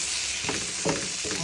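An egg goes into a pan of frying bitter gourd (ampalaya), raising a continuous sizzle with several louder surges of crackling as it hits the hot oil.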